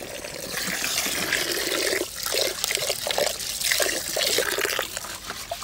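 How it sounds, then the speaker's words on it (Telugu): Water gushing from a borewell hand pump into a metal bowl outdoors, a steady splashing stream that surges and eases in pulses with each stroke of the handle, close and continuous. "కొట్టేయండి బోరింగ్."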